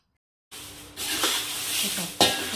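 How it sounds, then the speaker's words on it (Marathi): Green chillies are tossed in hot oil, starting abruptly after a brief silence with a bright sizzle and a couple of sharp stirring scrapes, close and fairly loud, with no talking. "थोडंसं तेलामध्ये चांगलं खालीवर करायचं मिरच्याला."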